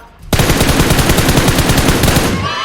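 Automatic gunfire in the PUBG Mobile game, a loud, close, rapid burst of rounds that begins suddenly after a brief quiet and hammers on for about two seconds before fading out.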